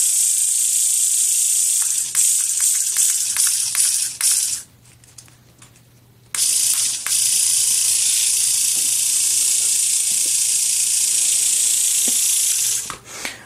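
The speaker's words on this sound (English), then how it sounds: "That sound that you're hearing is the tape right there that's holding the rotor and the connects piece together." Tape holding a toy connector piece onto the rotor of a spinning box fan motor rattles in a loud, steady buzzing hiss with clicks, cuts out for about two seconds, then resumes close up.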